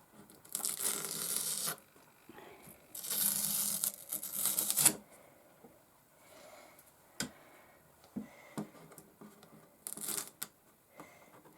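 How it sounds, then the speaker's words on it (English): Masking tape is peeled off a gouache painting in several close, crackling strips, each a second or two long, separated by quiet pauses and small handling clicks. "I'm just going to start peeling off now the masking tape that I put on"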